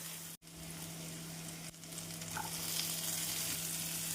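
Chopped potatoes, green chillies and capsicum sizzle and fry steadily in a pan over medium flame, with a brief clatter of stirring near the start. The frying hiss grows slightly louder toward the end.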